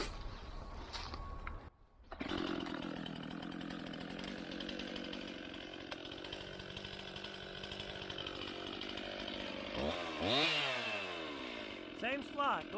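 A chainsaw cuts into a tree's hinge during felling, its engine droning steadily at a distance before revving and whining higher near the end, with faint talk around it.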